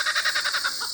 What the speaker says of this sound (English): Kookaburra's happy.